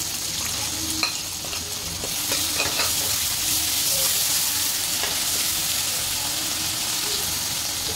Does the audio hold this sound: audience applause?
no